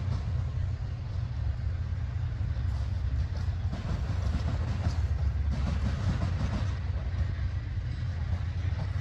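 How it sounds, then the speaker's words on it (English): A CSX freight train carrying military equipment passes close by, a steady heavy low rumble of wheels and engine with faint rail clatter, holding constant throughout with no talk. "After that, a CSX train carrying military equipment came."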